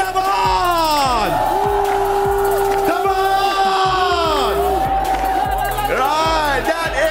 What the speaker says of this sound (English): Everyone, cheer for your team.